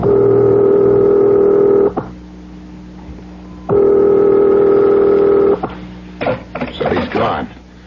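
A telephone dialed in an old-time horror radio drama: two long, loud tone bursts with a short quieter gap between them, followed by a few brief clicks and rattles at the end.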